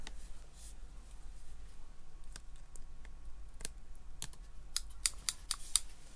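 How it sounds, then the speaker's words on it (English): Craft snips cutting a small piece off handmade material, heard as a few faint, sharp clicks spread through a quiet room, with a quicker cluster of snips near the end. "I am just going to use my snips to snip that little piece off"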